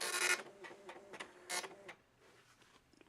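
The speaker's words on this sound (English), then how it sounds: "anything I put between the print commands, it should print out" A Commodore printer prints a short typed message in irregular mechanical bursts, with loud buzzing print-head runs and clicks separated by brief pauses before it trails off into softer ticking.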